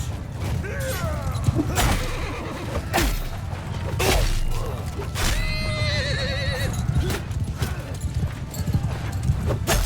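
Cavalry horses charging in the video game Mount & Blade II Bannerlord: rapid, dense hoofbeats thunder close by, with whinnies and neighs rising above, clanking gear, and brief swooshes in a chaotic battle din.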